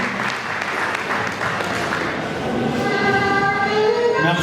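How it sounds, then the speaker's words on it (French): An audience at a poetry book presentation applauds, a full, steady clapping from many people, joined near the end by a rising tonal whistle or hum. "Sous vos applaudissements"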